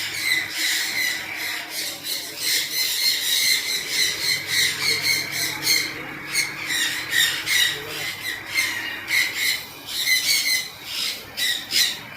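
Macaws squawk repeatedly at a busy Mumbai bird market near CST, with shrill calls coming in quick bursts at a moderate distance over a background murmur of crowd noise.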